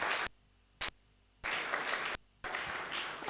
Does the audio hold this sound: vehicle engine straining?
no